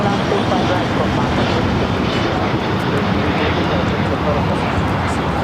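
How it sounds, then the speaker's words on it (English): Virgin Atlantic Boeing 787-9 Dreamliner taking off from LAX, a continuous loud broadband engine roar that stays steady from start to end, with a voice talking over it. "This is Virgin Atlantic Flight 8 taking off to London Heathrow on the 787-9 Dreamliner"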